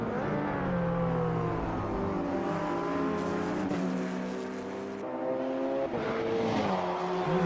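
Ginetta GT4 race car in a sim racing game, engine droning loudly and steadily with rising pitch sweeps through gear changes, a continuous close-up roar with no talking.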